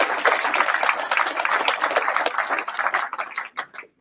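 Audience applause at an evening business gathering, a dense burst of many hands clapping close by that thins out and fades to a few scattered claps by the end.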